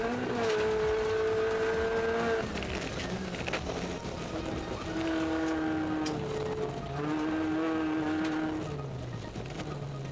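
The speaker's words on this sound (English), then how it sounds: "watch as they pedal their VW to the absolute limit" Onboard a Volkswagen two-wheel-drive rally car driven flat out in competition, the engine screams at high revs, dipping briefly on gear changes before climbing again, loud and continuous with gravel and road noise underneath.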